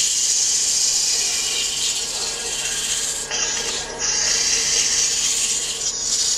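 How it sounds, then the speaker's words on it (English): Hand sanding of turned wood around raised beading makes a continuous close scratchy rasp with brief dips in the strokes partway through, steady and alone. "working the edge of the sandpaper right up to the beading"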